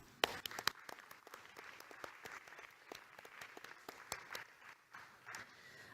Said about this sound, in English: So I think we should give her another round of applause.